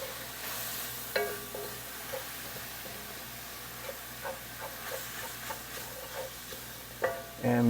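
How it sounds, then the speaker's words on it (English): Flour is stirred into softly sizzling onions, celery and garlic over low heat for a Cajun roux, making quiet intermittent scrapes over a faint continuous hiss. "I really want to work the flour into my seasonings"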